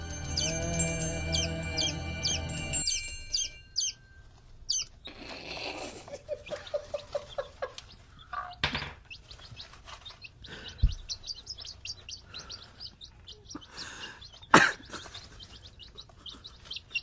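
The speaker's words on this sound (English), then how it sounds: "chirping as loudly as ever." A chick under an incubator heat lamp chirps loudly and repeatedly in rapid, high-pitched peeps over a steady low hum, with a few scattered knocks and clicks.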